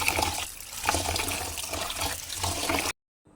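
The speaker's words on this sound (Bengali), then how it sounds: "দেন চাউলগুলো আমি ধুয়ে নিব।" Rice is washed by hand in water with close, continuous sloshing and splashing for about three seconds before cutting off abruptly, with no voices.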